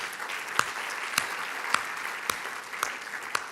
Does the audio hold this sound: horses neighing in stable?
no